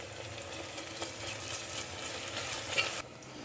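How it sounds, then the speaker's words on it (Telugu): Tomatoes cooked with turmeric and ginger paste for a broad bean curry are stirred in a hot pan, a continuous close sizzle and frying hiss with soft scraping strokes and no talk. "కొంచెం పసుపు వేసుకొని మొత్తం ఇలా కలుపుకోవాలి"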